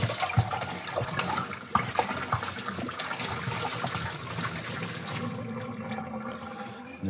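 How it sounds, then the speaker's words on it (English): Water sloshes and swirls inside a beer fermenter as it is shaken and rinsed during cleaning, producing a continuous loud, close churning gush with a few knocks. "Just going to shake it around and give it one final rinse here."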